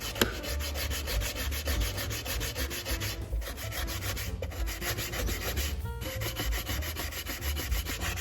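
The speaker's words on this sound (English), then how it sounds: "I turned it over and continued sanding on the other wall." Steady rasping scrape of a sanding sponge rubbing a miniature wooden wall assembly, continuous back-and-forth strokes, close and fairly loud, with a few brief pauses.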